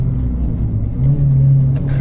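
A Renault Clio 3 RS with a naturally aspirated engine runs close by, a loud low engine hum that climbs into a steadier, stronger drone partway through.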